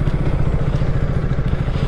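A KTM motorcycle idles in neutral, its engine giving a steady, close, low throbbing rumble with a slight clattering texture and no talk over it.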